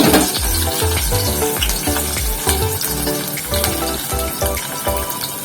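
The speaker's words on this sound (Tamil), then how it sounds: "நம்ம இப்போ இந்த வெங்காயம் போட்டுக்கலாம். வெங்காயம், கருவேப்பிலை, பூண்டு ஒரு 4 பல்லு" Onion, curry leaves and four cloves of garlic frying in a pan, a bright sizzle with rhythmic stirring scrapes and low thumps repeating roughly every half second, close and steady.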